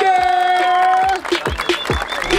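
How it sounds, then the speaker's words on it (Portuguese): The audience at a Brazilian rap battle in Barueri applauds, with sharp scattered claps and crowd noise following a sustained held shout. "palmas pro Big Mike!"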